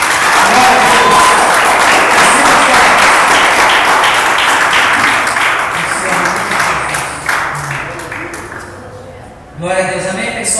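A church congregation claps loudly and continuously at the close of a worship service, a dense wash of applause that fades toward the end before a brief burst of voices and ringing tones returns.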